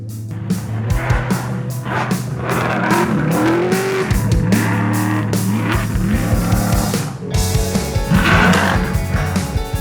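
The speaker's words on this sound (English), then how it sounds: "We're going to have a drift car come around the corner." A drift car skids around a corner at a country club, its tires squealing in long wavering shrieks over a steady engine roar that stays loud and close throughout.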